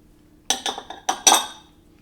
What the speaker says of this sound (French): commencer par fouetter le mascarpone avec le sucre glace et le lait